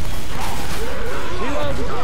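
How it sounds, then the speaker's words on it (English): Gun reloading in the game Left 4 Dead 2, loud mechanical clicks and clacks of a weapon being handled amid busy in-game noise, with a voice briefly audible underneath. "Reloading! Reloading!"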